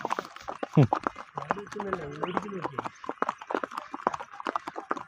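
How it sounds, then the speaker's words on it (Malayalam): A horse carrying a rider on a trail in Pahalgam, Kashmir, clip-clops in a steady, close rhythm of hoofbeats, with a short whinny early on and voices talking over it. "നമ്മൾ സ്വന്തമായിട്ട് കുതിരപ്പുറത്ത് അങ്ങനെ പോയിക്കൊണ്ടിരിക്കുക"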